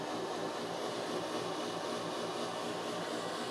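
Ventilation fan of a Chinese-made car running hard, a loud, steady broadband whoosh with constant level throughout and no talking.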